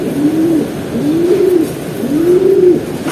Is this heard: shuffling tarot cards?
no